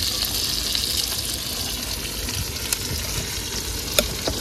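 Onions and chillies deep frying in a pan, cooked outdoors on a crab-catching trip in the Sundarbans forest, a loud continuous close sizzle with a few faint clicks and no talk.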